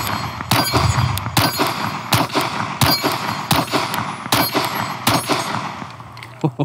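Springfield Armory Hellcat Pro pistol with a 17-round magazine fires about eight sharp, loud shots in a steady, fairly quick cadence, each crack ringing briefly before the next, with no talking.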